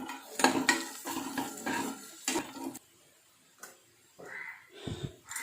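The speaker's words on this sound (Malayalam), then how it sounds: "അരമുറി സവാള അരിഞ്ഞത്, കറിവേപ്പില കുറച്ച് ഇട്ട് കൊടുക്കാം" Chopped onion and curry leaves go into a hot pan for Kerala-style palak curry, a burst of clattering and stirring followed by a fainter sizzle after a short lull, with a voice heard briefly.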